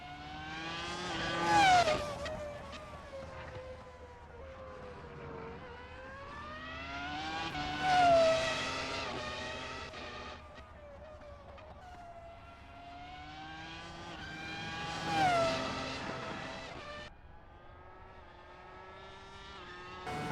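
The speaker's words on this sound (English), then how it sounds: "just to hear the noise of the F1 car again for pure nostalgia" A 2004 Formula One car engine in the Assetto Corsa racing game, its high-pitched whine sweeping up through the gears three times to loud peaks, then dropping on each lift-off, with no talk over it.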